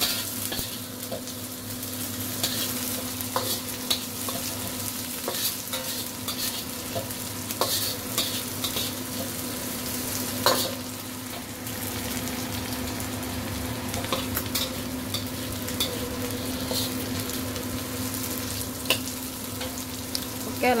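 Jengkol, or dogfruit, stir-fries in a pan with a continuous close sizzle. Frequent sharp scrapes and taps of the spatula keep an uneven rhythm throughout.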